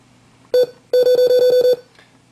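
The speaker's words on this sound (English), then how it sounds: "so we hear beeping" A short electronic beep followed by a quick run of about eight rapid, evenly spaced beeps, sharp and close against a quiet background.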